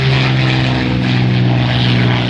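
A propeller airplane flying overhead at a retro car show, a loud, close, steady engine drone with a throbbing propeller hum that fills the whole moment without any speech.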